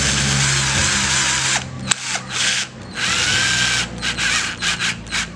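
A cheap cordless drill runs up to high speed, whirring loudly and close with a rising pitch, then cuts out and restarts in a series of short bursts.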